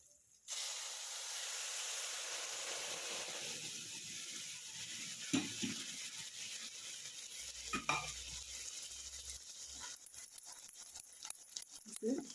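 Saffron milk poured into roasted semolina in a hot pan bursts into a loud, steady hiss that holds for several seconds, with soft stirring scrapes joining toward the end, fairly faint overall.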